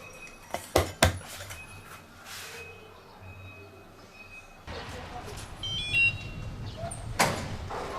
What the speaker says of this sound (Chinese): 盖上，这是保温饭盒，